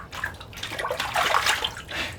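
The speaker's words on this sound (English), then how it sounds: "Little splash goodbye." Big fish let go back into the water at an ice-fishing camp in Sunset Country, Canada, giving a short, close watery splash and slosh lasting about two seconds with no talk.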